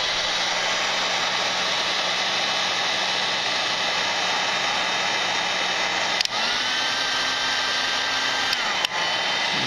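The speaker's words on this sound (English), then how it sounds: "I'm gonna take my heat gun here and start shrinking the tubes" Heat gun shrinking heat-shrink tubing on the wiring of a 2012 Ninja 650 motorcycle: a continuous loud whooshing fan-and-heater hiss, steady throughout, with brief clicks near the end.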